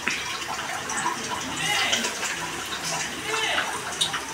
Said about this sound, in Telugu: నానబెట్టుకోవాలి వాటర్ వేసి